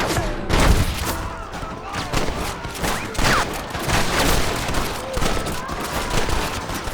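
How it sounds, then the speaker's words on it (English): Gunfire from a shootout in a western-style scene crackles in dense, repeated bursts throughout, with heavier thumping shots mixed in and a shouting voice over the din. "Stop shooting!"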